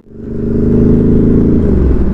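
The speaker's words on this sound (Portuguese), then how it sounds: "E agora não se ouve nada com o barulho daqueles carros." A car passes close by at speed near a stationary Honda Forza 300 scooter on a roadside, its engine droning loud and steady through the whole moment before a sharp clatter at the very end.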